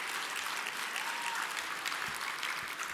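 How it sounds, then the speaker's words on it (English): Sustained audience applause fills a banquet hall at an award dinner, a steady dense patter of many hands clapping at moderate loudness with no talk over it. "can we just take a moment to applaud?"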